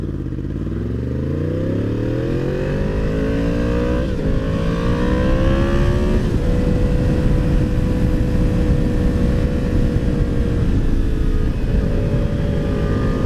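A Yamaha MT10 motorcycle fitted with an SC Project exhaust pulls away, engine rising through several revving climbs into a loud, sustained close roar that holds steady to the end.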